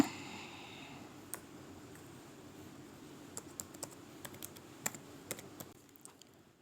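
Faint, quick keystrokes on a computer keyboard as a password is entered, irregular clicks over a soft background hiss with no talking.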